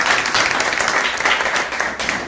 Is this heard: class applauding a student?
yes